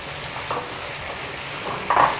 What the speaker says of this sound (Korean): 국물이 줄어들 때까지 좀 많이 볶아주세요